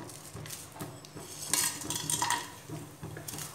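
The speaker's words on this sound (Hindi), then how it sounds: "अब हम इसमें सारे खड़े मसाले ऐड कर देंगे," Whole spices go into hot oil in a pressure cooker and get stirred, making close, clinking metallic scrapes and clatters of a spoon against the pot, with a faint sizzle underneath.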